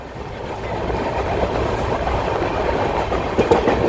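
The 22485 Intercity Express on the Ludhiana-Firozpur line rolls over the rails near Talwandi station, a continuous close rumble with faint clickety-clack and occasional light squeals.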